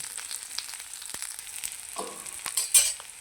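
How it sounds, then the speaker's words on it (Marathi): Onion sizzles steadily in a little oil in a pan for a Kolhapuri mutton rassa, with soft stirring scrapes throughout and a brief louder utensil clatter near the end, all close by with no talking. "कांदा भाजताना थोडंसं तेल टाकायचं."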